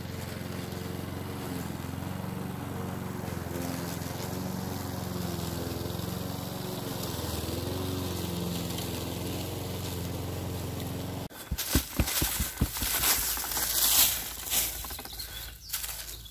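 A steady engine drone, like a lawn mower running close by, holds for about eleven seconds before giving way to rustling, clattering noises.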